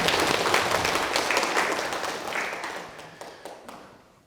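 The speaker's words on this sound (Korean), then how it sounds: "큰 박수 부탁드립니다." Audience applause fills the room at a steady roar, a dense wash of many hands clapping that gradually thins and fades toward the end, with scattered individual claps standing out as it dies down.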